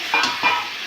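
Potatoes tipped into a pan of oily, sizzling fried masala gravy for aloo dum, a loud close burst of frying hiss and stirring scrapes.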